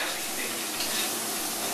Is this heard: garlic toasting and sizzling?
yes